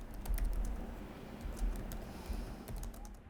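Fingers type on the quiet keyboard of a 14-inch Dell Inspiron laptop, a soft patter of light key clicks in irregular bursts, close and low in level with no talking.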